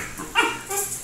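A three-month-old Belgian Malinois puppy and a dachshund play together, giving a couple of short, high yips and barks up close in a brief burst.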